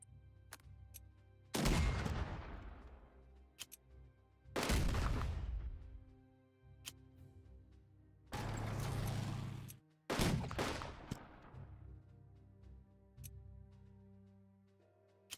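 Artillery fire in the Unity of Command II war game: four heavy booming blasts spaced a few seconds apart, each with a long rumbling decay, over a quiet background with faint ticks.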